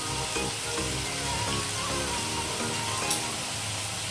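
Prawns fry in a pan in a Bengali kitchen, making a continuous close sizzle with faint stirring clicks throughout and no talking.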